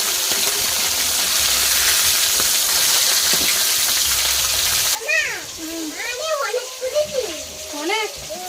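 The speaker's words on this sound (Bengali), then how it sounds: "আজকে মাছ রান্না করতেছি।" Fish taken from a pond sizzles in a hot pan with a loud, steady hiss that suddenly cuts off, followed by people talking, including a child.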